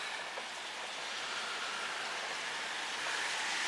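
Steady rain pouring outside a home in Redcliffe, Queensland, a dense, even hiss that holds unchanged for several seconds with no voices over it.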